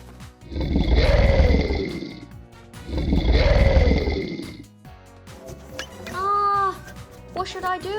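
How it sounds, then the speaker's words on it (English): Cartoon Tyrannosaurus roar from outside, two long loud rumbling roars one after another, followed by a voice speaking. "it sounds like it's the roar of the T-Rex from outside"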